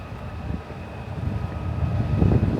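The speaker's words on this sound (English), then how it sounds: "Apologies if you can hear the wind up here." Wind buffets the microphone on exposed high ground near Anfield stadium, a steady low rumble that swells into heavier gusts toward the end.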